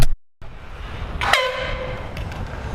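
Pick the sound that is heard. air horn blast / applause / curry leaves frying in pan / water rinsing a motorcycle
air horn blast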